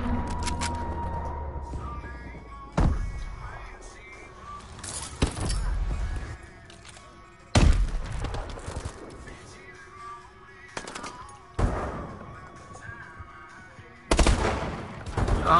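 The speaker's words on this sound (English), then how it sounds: "Friendly missile strikes inbound." Missile strikes pounding down in a PS4 video game, a string of sharp, loud blasts spaced a few seconds apart, each bursting up and then rumbling off over a steady bed of background game noise.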